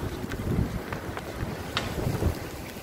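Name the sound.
strong typhoon wind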